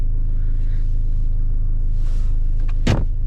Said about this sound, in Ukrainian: Хвилинку прогріваємо машину